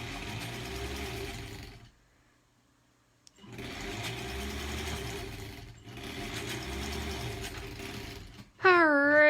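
A sewing machine chain-pieces quilt blocks for a granny squares quilt in bursts of rapid steady stitching, one run, a brief pause, then two more runs, with a short tonal chime at the end.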